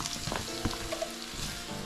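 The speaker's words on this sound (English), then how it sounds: "Our butter's hot. We're gonna go ahead and get these onions sauteing." Onions sautéing in hot butter give off a steady, close sizzle and crackle with a few brief stirring scrapes, and no voice is heard.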